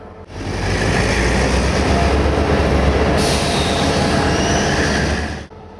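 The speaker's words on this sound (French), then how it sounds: "Le train de nuit en provenance de Zagreb vient de rentrer en gare" An overnight passenger train from Zagreb rolls into a station behind an American-designed diesel locomotive. A loud, close, continuous rumble of wheels and engine carries a high metallic squeal partway through before cutting off.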